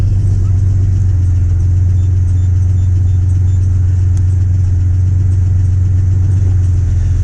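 A 1987 Chevrolet S10 pickup engine runs steadily at a low, even rumble, close and continuous throughout with no voices over it.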